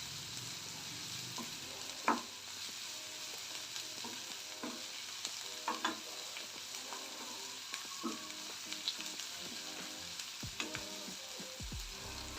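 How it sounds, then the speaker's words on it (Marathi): Chopped onion fries over medium heat in a pan for Marathi-style upma, giving a steady soft sizzle with occasional stirring scrapes and clinks, no voices present. "कांदा आपल्याला ब्राऊन होईस्तोपर्यंत फ्राय करून घ्यायचा आहे"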